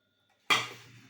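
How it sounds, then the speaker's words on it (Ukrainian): A single sharp clink of glass jars set against a metal pot after a quiet moment, ringing briefly and then fading. "І я ці баночки ставлю в каструльку."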